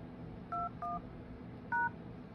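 An Android phone keypad sounds its dialing tones for *#21#, heard as three short, clear beeps spaced apart over a low background hum.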